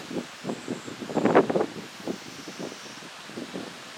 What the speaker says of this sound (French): Il y a un peu de vent, c'est vrai.